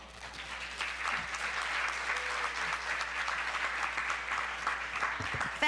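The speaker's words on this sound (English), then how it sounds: "Can you hear all the applause?" An audience at a conference wrap-up session applauds with sustained, even clapping from many hands, filling the room at moderate volume.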